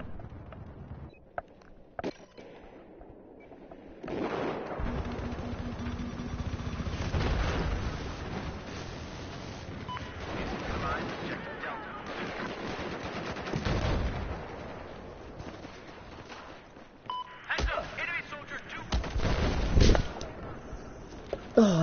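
Gunfire rattles through a round of the video game Battlefield, with bursts of shots and rumbling blasts spread across the stretch, mixed with faint background action.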